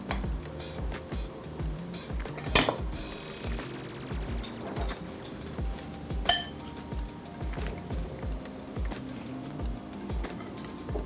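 Thai red curry tofu being dished up onto a plate: a few sharp utensil clinks against crockery, two of them standing out clearly, with soft scraping in between and music playing underneath.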